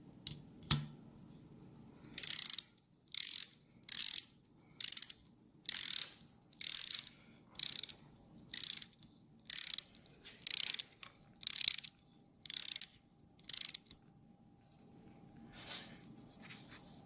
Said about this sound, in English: torque wrench is set, ready to go. So we'll do this one here and then we'll move on.